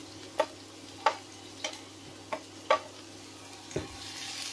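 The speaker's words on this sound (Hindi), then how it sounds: "अब इसको अच्छा से ब्राउन होने तक भून लेना है।" Chopped onion stirred in a pan: six sharp, evenly spaced spatula taps against the metal over a faint, low sizzle that swells slightly near the end, with no voices.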